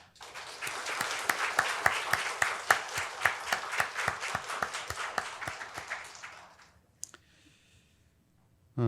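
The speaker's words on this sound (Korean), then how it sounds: "그러면 박수하시겠습니다." A church congregation at a Sunday worship service claps together in a steady, rhythmic beat, loud and close for several seconds before the applause stops abruptly and the room falls quiet.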